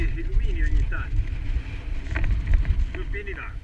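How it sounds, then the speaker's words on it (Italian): Heavy wind rumbles and buffets the microphone throughout, with people talking over the low roar. "qua il vento è veramente forte"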